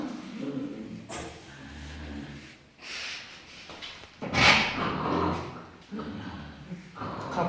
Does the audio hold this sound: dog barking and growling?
yes